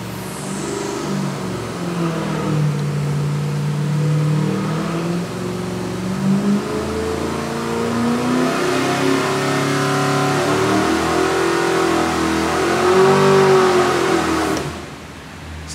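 A V8 engine with a small camshaft on a dynamometer, freshly broken in, revs up through a sustained pull, its pitch sweeping and rising loud and close, then cutting off near the end.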